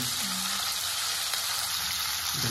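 Ground meat and onions frying in a pan give a steady, close, broadband sizzle that stays even and continuous throughout.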